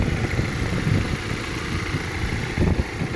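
A 2026 Volvo XC60 T8 AWD engine, transverse mounted, idles with a smooth low hum, close and steady, with a slight bump in rumble near the end.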